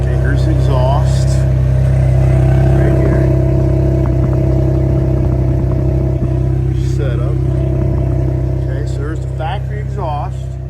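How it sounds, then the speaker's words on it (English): A 2021-2022 Ford Bronco with a catback exhaust idles with a deep, steady engine note and low exhaust burble throughout, with someone talking over it. "Let's now start her up. And let's hear... Okay, here's the exhaust."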